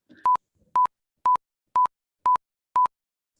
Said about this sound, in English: This is the common sequence, consists of 6 identical tones.